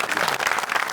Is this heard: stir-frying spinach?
no